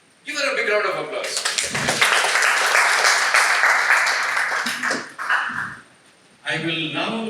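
Applause breaks out at a Toastmasters club meeting, loud close clapping from a room of people that swells for several seconds, fades into a short quiet gap, then resumes.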